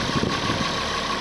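A 1968 Oliver 1850 tractor engine idles nearby with a steady, even diesel rumble and a faint tonal hum, holding constant without revving.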